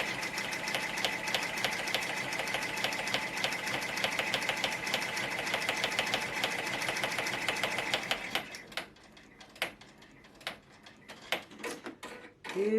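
An embroidery machine stitches puff foam onto a cap with a fast, steady mechanical needle clatter and hum for about eight seconds, then stops, leaving scattered clicks and handling noises.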